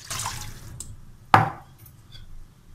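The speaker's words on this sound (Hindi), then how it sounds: "2 कप के जितना हम पानी डालेंगे" Water splashes and trickles into a cooking pot for chicken, a brief pour early on followed by a sharp clank of metal, then faint drips, close and fairly quiet.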